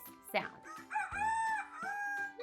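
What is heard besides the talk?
rooster crowing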